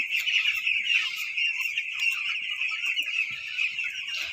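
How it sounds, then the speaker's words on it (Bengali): A flock of chickens crowds around a plate of vaccine-dosed water, clucking and squawking continuously at close range with a dense, busy chatter and no talking. "প্লেট বসানোর সাথে সাথেই মুরগি এসে গেছে ওদিকে তো ঝাঁক হয়ে পড়েছে"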